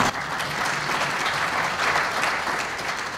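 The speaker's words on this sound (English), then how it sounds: "You should clap for my parents." Audience applause at a summit event, a continuous, dense burst of clapping from a large crowd, loud and steady throughout without a break.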